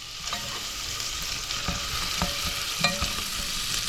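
Jalapenos sizzle steadily in a hot pan while a utensil stirs them, with soft scraping taps against the pan over the constant frying hiss.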